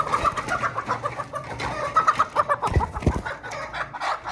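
Homegrown chickens cluck nearby in repeated short bursts, with busy, overlapping calls from the flock that carry on throughout at a fairly loud level and no talking.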